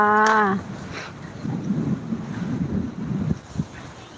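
Strong wind blows ahead of another round of rain, a low gusting rumble buffeting the microphone after a brief tonal sound at the start, rising and falling in loudness.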